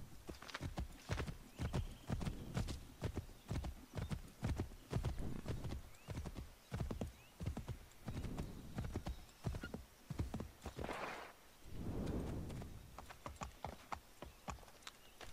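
Horse hooves clip-clop at a steady trotting rhythm in the Assassin's Creed III video game, close and continuous, with a couple of brief whinnying snorts partway through.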